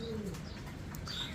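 Caged pigeons, an Andalusian hen among them, coo in soft low burbling notes close by, with a brief chirp and faint wing movement over steady background noise.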